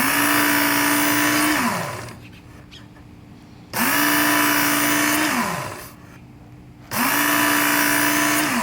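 A knife drawn through a BBQ tool sharpener, giving loud sustained grinding strokes with a steady whine. The strokes come in long passes of about two seconds each, separated by short quieter gaps, and no one speaks.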